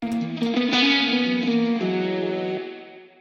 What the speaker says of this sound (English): It's a spring reverb.